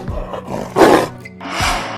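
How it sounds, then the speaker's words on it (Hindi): A tiger's roar rumbles out in loud, close bursts, with a couple of deep growling roars in quick succession. "This is tiger."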